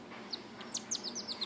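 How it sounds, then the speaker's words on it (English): A pet bird chirps in a series of quick, high tweets, sparse at first and then coming in a fast run of bright calls, fairly close over faint room noise, with nobody talking. "Hey, Greg, is there anything you don't chirp about?"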